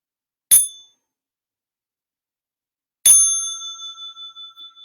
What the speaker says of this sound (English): I'm going to invite the bell, the small bell, for stretching and massage.